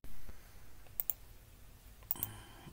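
Keys on a computer keyboard, used to play a light gun shooter game on an emulator, click quietly in two quick pairs against a faint room hush.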